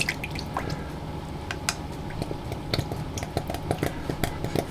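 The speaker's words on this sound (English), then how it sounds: "We're going to add some maple syrup to that." Maple syrup is poured into a greengage punch made with apple juice, giving soft liquid drips and glugs, close by and fairly steady, with faint background noise.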